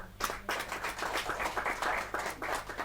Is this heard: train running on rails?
no